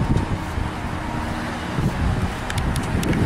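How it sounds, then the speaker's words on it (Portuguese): Strong wind buffets the microphone outdoors on a cloudy, stormy day, a steady broad rumbling roar with faint traffic-like noise underneath, holding for the whole stretch with no talk. "Muito vento, ó."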